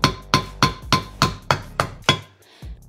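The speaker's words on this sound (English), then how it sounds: "So you go down along that seam, just tap your screwdriver down in there." Eight sharp metallic hammer taps drive a flat tip screwdriver into the seam of an engine head on a 360 Magnum, struck in a steady, close rhythm with a short pause before the last blow.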